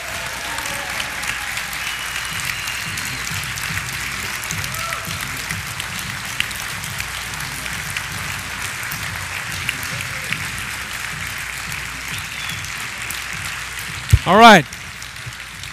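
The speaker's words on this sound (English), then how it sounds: "one final round of applause for all of these leaders" A mastermind event audience applauds its leaders, a steady, even wash of clapping running throughout, with a brief voice near the end.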